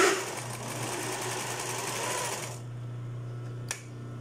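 A sewing machine runs steadily, stitching a lace top, with a continuous whirring buzz for about two and a half seconds. It then stops, leaving a low hum and one brief click near the end.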